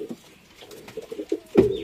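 Rajshahi Giribaz pigeons coo softly in a loft, a few low murmuring coos that swell into one louder burst near the end.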